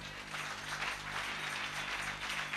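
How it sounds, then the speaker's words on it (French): Congregation at a church service clapping for a pastor, a steady, dense applause that fills the room evenly without pause. "Applaudissez pour le pasteur."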